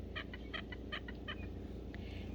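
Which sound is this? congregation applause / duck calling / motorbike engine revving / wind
duck calling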